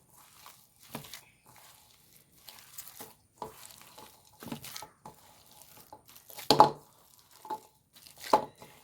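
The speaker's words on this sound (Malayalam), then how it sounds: "ഇനി ഇതൊന്ന് നല്ലോണം ഒന്ന് മിക്സ് ചെയ്തെടുക്കാം കേട്ടോ" A potato snack mixture being mixed by hand in a bowl, heard as soft irregular squishing and scraping bursts separated by near silence, close and quiet.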